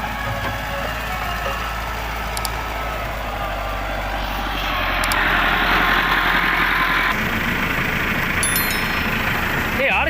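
A tractor engine drives a toka fodder cutter on a farm, giving a loud, steady mechanical drone with vibration and a rise in intensity midway, with no speech over it.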